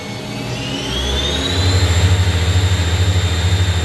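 A 1999 Miyano BND 42C5 lathe spindle spinning up to 5,000 RPM, giving a loud, steady mechanical drone with a rising whine and a rhythmic low throb as it reaches full speed.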